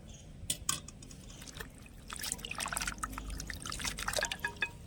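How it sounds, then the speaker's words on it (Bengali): Spinach leaves go into a bowl of cold water, giving soft splashes and drips with scattered watery clatter, close and fairly quiet. "এবার পালং শাকটা ঠান্ডা জলের মধ্যে দিয়ে দেব।"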